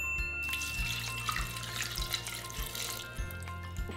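Glass of water poured into a blender of green juice with lemon and spirulina, a steady close splashing pour with a low humming hum underneath, no talking.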